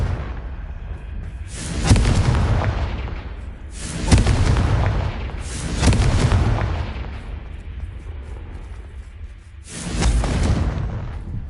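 Confringo fire-blast spells explode in the video game Hogwarts Legacy: four loud, deep booming blasts with rumbling tails, spaced a couple of seconds apart.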